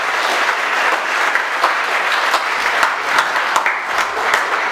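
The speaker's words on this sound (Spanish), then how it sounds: "Ofrecemos un aplauso al maestro." An audience at an anniversary forum claps for a teacher, a close, lively burst of applause with distinct individual claps standing out, continuing steadily throughout.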